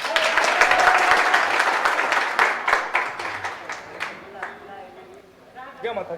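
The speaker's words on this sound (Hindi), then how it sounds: "एक बार है ताली वाली।" Students in a school classroom clap together in a loud, dense burst that gradually thins and fades toward the end, followed by a few voices.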